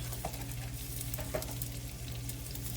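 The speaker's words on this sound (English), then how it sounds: "So you're gonna put a stick of butter and then some garlic." Butter and garlic sizzle in a pan with a continuous, even crackling hiss and a low steady hum beneath, a few faint clicks near the start, fairly quiet and close, no speech.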